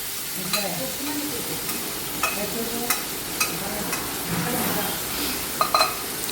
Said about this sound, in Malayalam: വേവിച്ച് വെച്ചിരിക്കുന്ന ചക്കക്കുരും കയ്പ്പയ്ക്കും ഇതിലേക്കിടാം കുറച്ച് വെള്ളമുണ്ട് കുഴപ്പമില്ല നന്നായിട്ടൊന്ന് ഇളക്കി യോജിപ്പിക്കുക